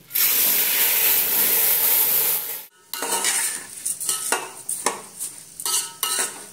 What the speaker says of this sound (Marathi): पूर्णपणे सगळ्या बाजूने असं छान हलवून घ्यायचं।